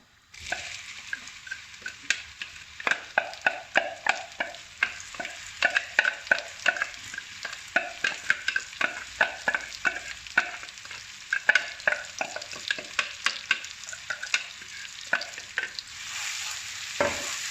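A thick onion, ginger and garlic paste sizzles steadily in a hot pan while a spoon scrapes and stirs it in quick, repeated strokes.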